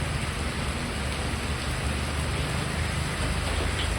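Heavy monsoon rain pours steadily in Karachi, a dense, constant wash of downpour close by with no pauses and no voices.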